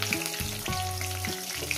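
Chopped onions frying in a pan after cumin seeds, a steady close sizzle with soft stirring scrapes recurring every half second or so, no voices over it.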